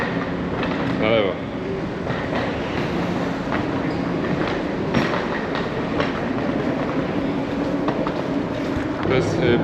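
Moscow metro train on the red line, the oldest line, rumbling and rattling steadily with rhythmic wheel clatter and rail squeal, loud and continuous throughout, with people talking faintly in the background.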